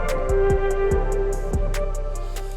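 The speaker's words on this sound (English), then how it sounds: "So I went into the Mellotron and I used this flute that I like to use." Mellotron Rubicon Part 1 flute lead sample playing a sustained breathy melodic line over steady low bass and rhythmic percussive ticks, dense and continuous at moderate loudness with no talk.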